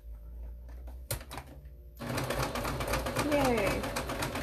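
Sewing machine stitching a fabric face mask starts after a brief clatter, then runs as a steady rapid whir with a voice talking over it.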